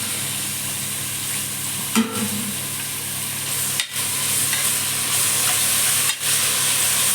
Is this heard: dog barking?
no